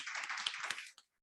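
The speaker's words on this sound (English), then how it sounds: "let's have a round of applause for Veeti" A short burst of applause for Veeti at an interview event for board applicants, dense clapping from a small group that quickly fades out, ending with a single late clap.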